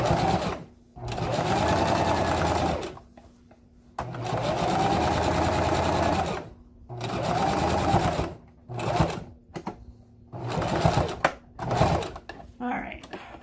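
Sewing machine back stitching a handbag, several bursts of fast motor-driven stitching separated by short pauses, close and fairly loud, with a voice talking in the gaps.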